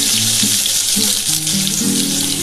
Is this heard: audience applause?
no